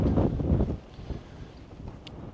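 Gusty wind buffeting a tent and the microphone while wild camping, a low rumbling roar strongest at the start then easing to a steadier, softer rush.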